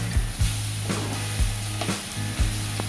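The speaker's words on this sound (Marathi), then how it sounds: "तर व्यवस्थित आपण याला परतून घेऊया, म्हणजे व्यवस्थित हलवून." Roasted coconut and jaggery sizzle in a hot pan while a spoon scrapes and stirs through them, with repeated low scraping strokes over a steady frying hiss and no talking.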